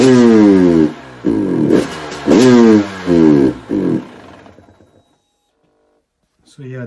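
A KTM TPI motorcycle engine bogging from a bad sensor contact revs in four or five close, loud bursts that stutter and sag, then dies away into near silence before a brief noise at the end.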